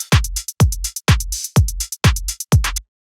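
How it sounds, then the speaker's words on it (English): Six evenly spaced drum hits in a steady house-music pattern, each a punchy low thump followed by bright crisp hi-hat ticks between, all at the same even velocity, loud and close with no talking. "it's just a closed hi-hat"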